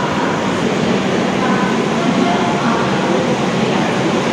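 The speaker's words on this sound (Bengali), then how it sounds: "প্রয়াগরাজ স্টেশন থেকে ট্রেনটা এখনই ছাড়লো" A train pulling out of Prayagraj Junction, heard from inside the coach: a constant loud rumbling roar of the moving carriage, broad and steady throughout with no clear break.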